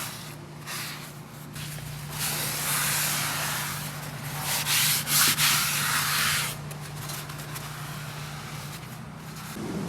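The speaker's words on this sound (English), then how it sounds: "let's wipe up this grease real quick before it gets all over us" Leaking axle grease is wiped off a damaged axle seal on a 1965 VW Beetle chassis, giving a steady close rubbing and scrubbing with a brief louder burst midway. A low hum runs underneath and no one speaks.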